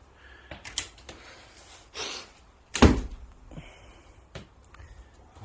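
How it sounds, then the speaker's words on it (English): Double-glazed doors on a log cabin pub swing open, giving a few soft clunks and light knocks with one louder thump near the middle, heard up close in a quiet room. "Doors can open."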